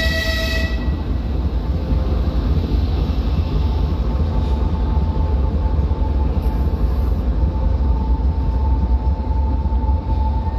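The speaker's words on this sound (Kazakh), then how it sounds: "Мінекей тепловоз." A diesel locomotive hauls a train past, with a steady heavy rumble of engine and wheels on rail, a faint horn-like tone early on, and continuous loud noise throughout with no talk.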